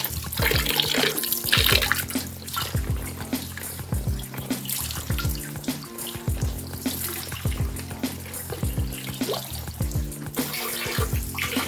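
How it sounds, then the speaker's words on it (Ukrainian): Cold spring water runs steadily from a pipe at a mineral spring in Skhidnytsia, a continuous close splashing gush that never pauses, with no talking over it. "Так, через трубочку, теж холодна водичка."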